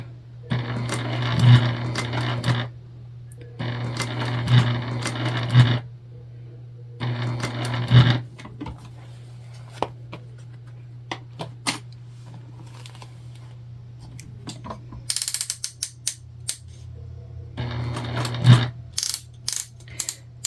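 A sewing machine stitching a craft show wristlet bag: three steady whirring runs separated by short pauses, then scattered clicks and adjustments before a final burst of stitching, loud and close.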